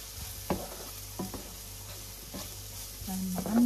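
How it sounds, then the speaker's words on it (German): Noodles with eggs frying in oil in a pan, a steady sizzle broken by several sharp scrapes and clatters of stirring, loud and close, with no talk. "Dann mal anbraten,"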